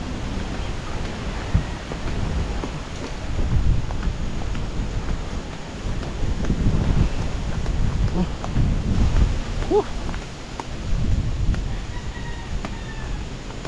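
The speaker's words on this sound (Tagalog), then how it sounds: "Lakas ng hangin." Strong wind rushes outdoors in heavy, rumbling gusts that swell and fade across the whole stretch, loud and buffeting at the microphone with a noisy low roar.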